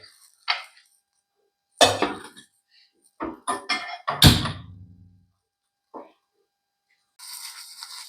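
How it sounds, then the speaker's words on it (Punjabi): A metal pot handled on the stove while milk heats, giving several sharp clunks and clanks spaced irregularly, with one louder thud mid-way and brief rattling near the end, fairly close and otherwise quiet. "ਦੁੱਧ ਨੂੰ ਗਰਮ ਕਰਾਂਗੇ"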